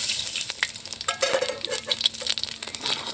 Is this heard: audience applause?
no